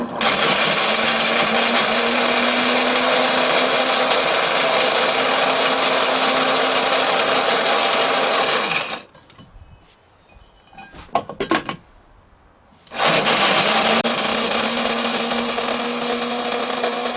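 An electric grinder whirs loudly while it reduces dried chaga mushroom to powder. It runs steadily for about nine seconds, stops for a few seconds with some faint rattling, then starts up again at full volume.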